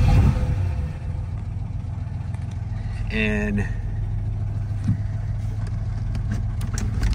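A 1958 Lancia Aurelia B20 GT with a V6 engine runs at a steady idle throughout, with a smooth low drone and a brief rising whine partway through. Someone talks over the engine noise.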